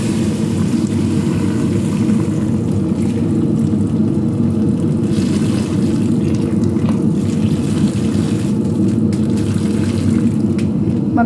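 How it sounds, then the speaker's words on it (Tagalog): Water poured steadily into a cooking pot of shrimp, a continuous loud rushing and splashing that runs unbroken and close. "Lalagyan na natin siya yan ng sabaw or ng tubig."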